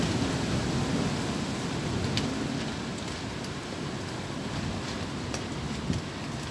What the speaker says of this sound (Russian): А ведь шторм всего лишь средней силы.